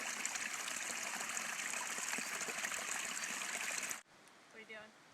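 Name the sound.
stream of water flowing at a campsite in Maine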